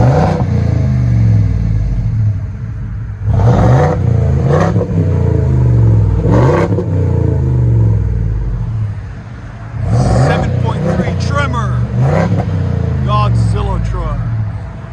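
A Ford F-350 Tremor with the 7.3L gasser V8 revs hard through its exhaust, several loud rising blips and sustained roars with deep rumbling idle between them, close by and dominating throughout.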